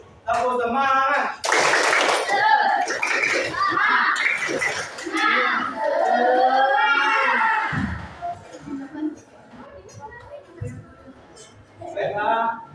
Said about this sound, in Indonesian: beri tepuk semangat dulu. Tepuk semangat.